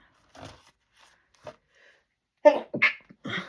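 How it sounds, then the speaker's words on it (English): A sharp, close sneeze bursts out after a few quiet rustles, followed by a short breathy aftershock. "Sneeze got me."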